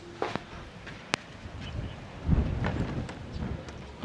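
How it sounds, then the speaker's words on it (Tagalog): Gusty wind buffets the microphone in uneven rushes, with a few sharp knocks and rattles near the start and stronger gusts toward the end. "Sobrang lakas ng hangin."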